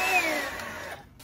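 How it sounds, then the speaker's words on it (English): Morphy Richards vacuum cleaner, body only, running with a steady whining motor hum that winds down and cuts out near the end, close and alone. "Next we have a Morphe Richards vacuum cleaner."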